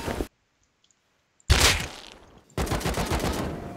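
Bursts of rapid gunfire in a video game, a short volley, then silence, then two longer sustained rattling bursts of shots, close and loud.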